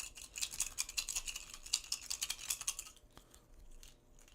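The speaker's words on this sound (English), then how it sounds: "So we'll shuffle these up." Mage Knight board game cards being shuffled close by, quiet rapid riffling and flicking clicks in quick bursts, then a softer settling tail; no one talks.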